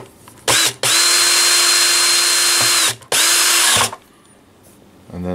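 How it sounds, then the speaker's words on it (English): A power screwdriver driving screws into a Fender Acoustasonic 30 amplifier during repair: two long, loud, whirring runs, each starting abruptly and stopping with a short catch, separated by a brief pause, then quiet. "So now we're going to put the bottom screws in."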